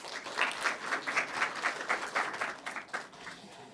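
Audience applause at a network engineering conference session in Yokohama, a dense burst of many hands clapping that swells and then gradually tapers off.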